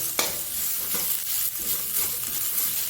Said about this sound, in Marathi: मग त्याच्यातच मी मिरची टाकलेली आहे लसूण पण टाकलेलं आहे आणि हे आता मस्तपैकी असं तेलावरती परतून घेते